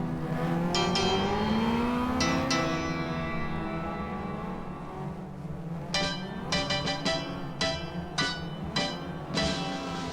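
Stock rod race cars rev their engines loudly at the start of a 25-lap championship race in England, a dense, continuous engine roar with rising and falling pitch and repeated sharp throttle blips.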